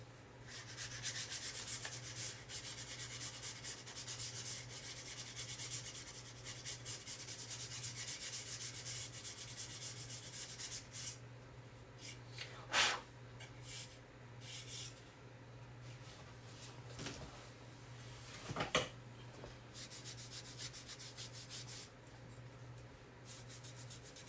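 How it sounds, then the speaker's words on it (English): A surface on a fall fence-peeker craft is being lightly sanded, with continuous close rubbing strokes at first and then sparser scrapes and a few sharp taps. "I'm going to lightly sand over this just to smooth it out a little bit."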